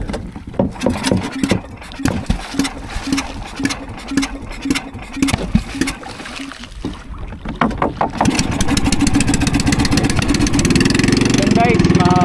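A fishing boat's engine runs on the water with a steady mid-pitched throb, growing louder and rougher in the last few seconds as it is revved harder to stir up the fish.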